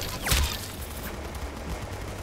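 A BB gun called the Bison fires in the Roblox game Arsenal, a quick burst of shots early on, followed by a faint, noisy game background.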